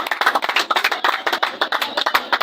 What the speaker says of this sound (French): Je vous prie d'applaudir pour lui.